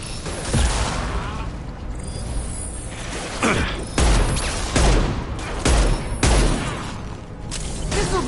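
Heavy weapons gunfire in the video game Mass Effect 2, loud fusillades and booming impacts hitting repeatedly over mechanical battle noise, with a voice briefly talking among the shots.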